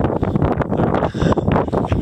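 Strong wind buffeting the microphone on the West Spanish Peak mountain ridge, loud and gusty with rough, uneven roaring surges throughout.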